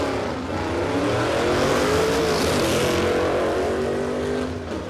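Drag race cars at Warwick Dragway, a loud sustained engine roar that rises and holds near full strength for several seconds before easing slightly, heard up close with no talk.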